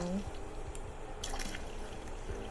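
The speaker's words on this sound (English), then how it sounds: "Oh, I think that's because I have to water this plant first." Water poured onto a plant in the narrative video game The Berlin Apartment, a short soft trickle and dribble heard faintly alongside quiet game ambience.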